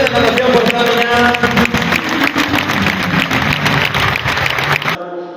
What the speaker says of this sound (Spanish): aplausos de ese Club de Natación Portamiña